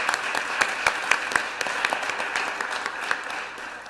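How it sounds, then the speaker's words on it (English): Audience at an opioid addiction informational forum applauds a councilor, a steady wash of many hands clapping throughout, fairly close and sustained with no talk. "I think we all need to give an applause to Councilor Field"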